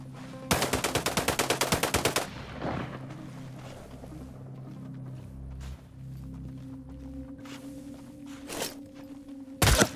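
Rapid automatic gunfire aimed at the player in the video game Sniper: Ghost Warrior 3: a loud, fast burst of about a dozen shots, then quieter rumbling ambience, with a single sharp crack at the very end.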